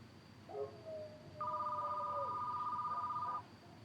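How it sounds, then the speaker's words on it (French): A landline telephone in a quiet living room rings in a steady electronic trill lasting about two seconds, clear and close, after a brief softer tone. "Le téléphone sonne."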